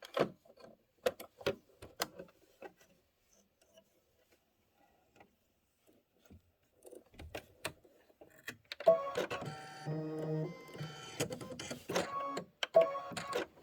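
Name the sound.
embroidery sewing machine quilting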